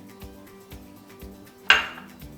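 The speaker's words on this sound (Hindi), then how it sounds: "अब फ्लेम ऑन करते हैं और पैन रखते हैं और उसमें ऑयल डाल के इनको फ्राई कर लेते हैं।" A frying pan is set down on a stovetop burner with one sharp metallic clank, preceded by soft, faint kitchen knocks.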